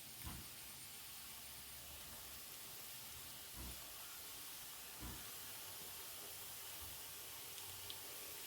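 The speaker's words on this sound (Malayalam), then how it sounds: "നമ്മൾ ഉരുട്ടി വെച്ചത് ഓരോന്നും ഇതിലേക്ക് ഇട്ട് കൊടുക്കാം കേട്ടോ ചൂടായ എണ്ണയിലേക്ക്" Banana snack balls dropped into hot oil to fry, a steady soft hiss and sizzle held at a low level throughout, with a few faint dull plops as pieces go in.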